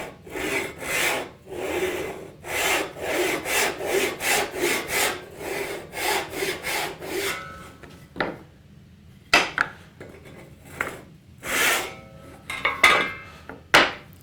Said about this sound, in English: Let me saw the other cheek real quick